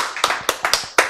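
A few listeners at a Bible lecture clap in a short, sparse burst of distinct, close hand claps, about six sharp slaps in roughly a second.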